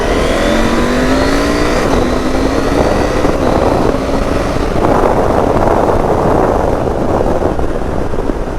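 A Husqvarna Norden 901 motorcycle fitted with a quick shifter accelerates hard on the road, its engine note climbing through several rapid, seamless upshifts with a loud, continuous roar.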